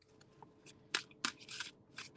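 Tarot cards are shuffled by hand in short, crisp riffling bursts with small taps between them, close and fairly quiet, with no talking.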